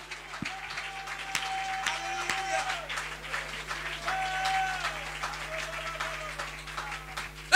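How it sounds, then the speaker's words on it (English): A church congregation claps and shouts praise together, a sustained bed of rhythmic hand claps mixed with raised voices and cries, steady and fairly close throughout. "Would you just give God a hand clap of praise and a shout of victory"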